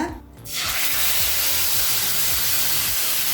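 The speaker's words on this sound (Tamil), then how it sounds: "அடுத்து நம்ம அரைச்சி வச்சிருக்க விழுதை இதில் சேர்த்துக்கலாங்க." A loud, steady hiss of sizzling as ground paste is added to hot oil in a pan, bursting in after a brief quiet moment and continuing strongly.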